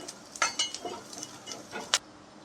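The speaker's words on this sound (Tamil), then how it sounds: "தேங்காய் வந்து நல்லா பொன்னிறமாக மாற வரைக்கும் இதை வந்து நல்லா வறுத்துக்கலாம்" Grated coconut is dry-roasted in a pan over a medium flame until golden, giving a few soft scrapes and stirring clinks against the metal, with a sharper tap near the end and a faint crackle underneath.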